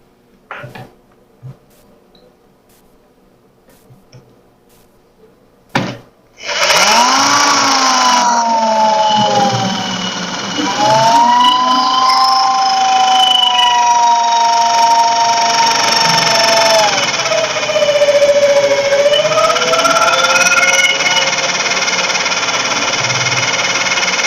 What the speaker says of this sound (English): These drill bits are getting old.